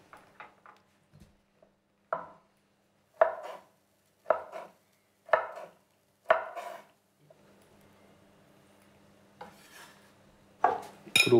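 Black olives chopped with a knife on a board for a black-eyed bean salad, a series of separate crisp thuds, some single and some in quick pairs, with quiet gaps between them.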